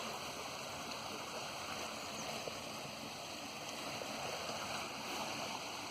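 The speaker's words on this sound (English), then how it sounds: "water flows into that grill" Canal water pours steadily into a lock grill, a continuous close rush of flowing water with a broad hiss and no other sounds.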